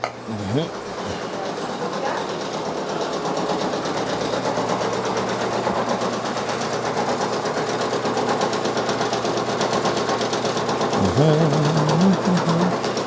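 A Brother Persona PRS 100 embroidery machine stitches out a patch with a steady, rapid mechanical chatter that runs continuously and loud throughout, with brief voice-like tones near the start and end.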